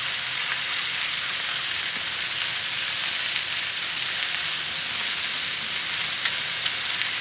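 Burgers frying on a grill at the Cook Shack, a steady loud hiss of sizzling fat that continues evenly and close throughout with no talking.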